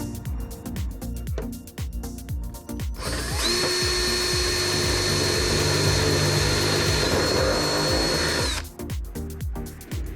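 A power drill runs in one long, steady high whine for several seconds, drilling a kart seat for mounting, bracketed by clicking and knocking sounds before and after.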